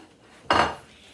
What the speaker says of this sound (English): I'm going to cut up the meat.